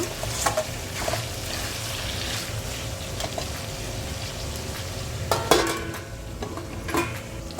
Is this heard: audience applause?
no